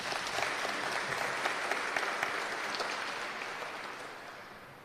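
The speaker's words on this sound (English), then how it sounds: "I think that deserves a round of applause." A crowd at a cocktail event honouring a former chief justice breaks into a sustained round of applause, dense and even, tapering slightly toward the end.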